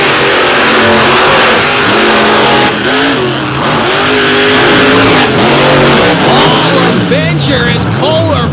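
Monster truck engines rev hard and loud through a heat of a monster truck race, the pitch climbing and falling in repeated surges over steady roaring drone, with an announcer's voice riding above the noise.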